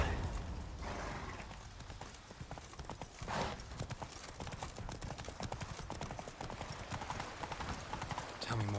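Hooves of a horse trotting steadily in The Witcher 3, a continuous rhythmic clip-clop running throughout over ambient game background, with a brief whinny-like burst near the middle.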